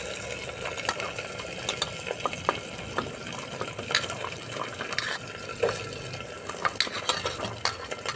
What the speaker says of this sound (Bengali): এরপরে আলু কুচানোগুলো দিয়ে দিলাম।